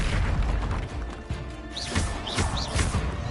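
Confringo explosive spell in Hogwarts Legacy, dull booms and bursts thudding amid steady combat noise, with a few chirping magical flourishes on top.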